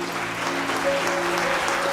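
Sustained applause from a conference audience at a business school awards event, a steady even wash of clapping with faint tonal hum underneath.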